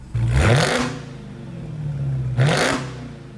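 A 2016 Dodge Challenger Hellcat's V8 revs twice in sharp bursts through its stock valved exhaust, the exhaust roaring up and falling back to a steady idle rumble between them.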